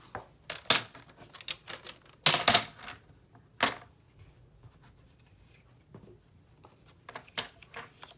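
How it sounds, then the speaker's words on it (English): Paper trimmer slicing through paper during a paper-folding craft, a series of quick dry scraping and clicking strokes in irregular bursts, close and fairly loud with quiet gaps between. "And I'm gonna grab out my paper trimmer here."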